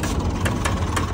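A tractor engine idles nearby in a steady low rumble with faint periodic knocks, heard alone without speech.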